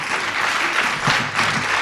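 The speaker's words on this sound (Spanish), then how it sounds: "Un fuerte aplauso." Theatre audience giving loud, dense applause after an amateur stage scene, a continuous wash of many hands clapping close and steady throughout.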